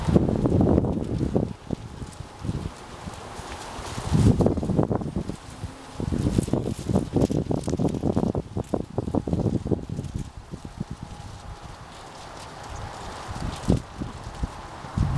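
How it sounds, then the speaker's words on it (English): Gusty wind rushes and buffets the microphone while Rainier cherry tree leaves rustle at harvest time, with irregular surges and occasional crackles and taps throughout. "It's windy."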